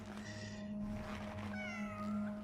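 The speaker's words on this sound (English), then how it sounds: "Oh, what? A cat?" A cat in the video game Cronos: The New Dawn gives two drawn-out meows, one after the other, over a low steady background hum.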